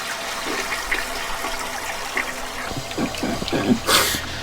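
Toilet flushing in the video game Viscera Cleanup Detail, a rushing gurgle of water with bubbling swirls building to a louder splashing surge at the end.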